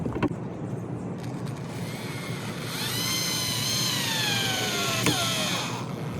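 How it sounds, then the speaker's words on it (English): A power drill whirs up and runs steadily for a few seconds, its pitch sliding down as it drives a screw into a DIY wooden raised garden bed, preceded by a few clicks. "after I drill it in"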